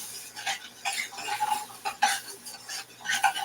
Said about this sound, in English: I got to saute up my onions with a little salt, pepper